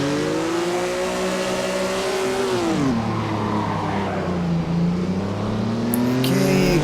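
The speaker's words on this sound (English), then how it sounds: "So okay, this is the start of the race. Nothing but Maserati 250's 6-cylinder cars." Maserati 250F six-cylinder race cars roar loudly together off the start in Assetto Corsa, a dense, sustained engine howl whose pitch climbs, dips at a gear change near the three-second mark, then rises again.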